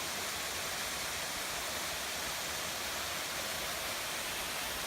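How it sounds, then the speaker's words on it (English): A small, peaceful waterfall in Olympic National Park pours with a steady, close, full rushing roar that never lets up, with no voices. "Nice little peaceful waterfall."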